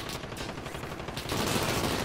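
Gunfire in the Warzone video game comes as rapid bursts of shots, close and loud, running into a denser volley toward the end.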